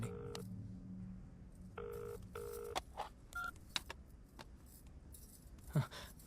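Telephone call going unanswered: tones and ringing signals repeat in short bursts over a quiet background, mixed with small handling clicks and rustles.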